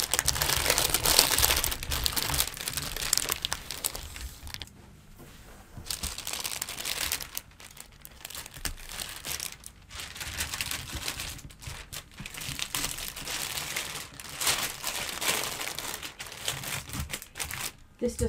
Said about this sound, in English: So I wrap it really well in the glassine paper.